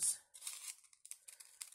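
Scissors trim the edges of a machine-sewn tulle rosette in a few quick, close snips and crisp fabric cuts, separated by short pauses, quiet and with no talking.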